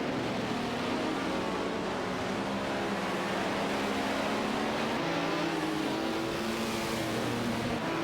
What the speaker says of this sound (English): Sucro Excalibur is piloting a Ferrari 312 PB, while one serious guy is driving an Osala Par 9.